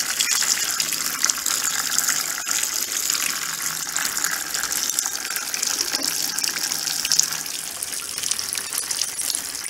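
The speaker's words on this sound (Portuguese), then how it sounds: "Então agora eu vou deixar a lavadora enchendo de água." Arno Lavete Intense Delicate 10 kg washing machine filling with water: a steady, loud gushing hiss of inflowing water runs continuously and evenly throughout, with no voices.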